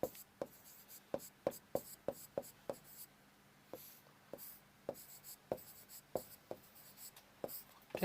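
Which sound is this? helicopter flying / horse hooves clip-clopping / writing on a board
writing on a board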